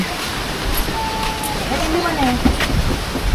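Strong wind during Typhoon Uwan blows as a continuous loud roar with thin whistling tones drifting through it, steady across the whole stretch.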